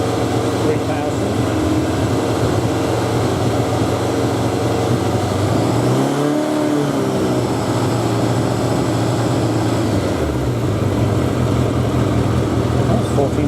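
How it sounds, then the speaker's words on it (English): A Suzuki 1100G motorcycle engine runs steadily during a charging-regulator test, swelling briefly in a rev toward 3000 rpm midway before settling back to a loud, even idle. "Rev it up a little."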